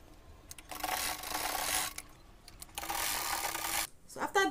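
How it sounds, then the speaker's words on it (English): Up close, a sewing machine runs two sustained stretches stitching a half-inch bag seam, with a short pause between them and a brief voice at the end. "And I'll be sewing this by 1/2 inch."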